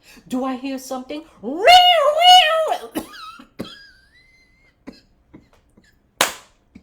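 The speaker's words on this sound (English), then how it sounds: "A cough is a sound." A voice speaks and then lets out a drawn, vocalized cough-like sound, followed by a few sharp clicks and a final short burst.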